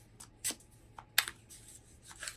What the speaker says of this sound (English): But I'm working right now, uh, shuffling the Animal Wise Tarot.